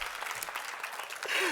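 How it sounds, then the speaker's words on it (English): An audience at a school district oath-of-office swearing-in ceremony claps, a soft, distant patter of scattered applause that swells louder near the end. "Give yourselves a round of applause"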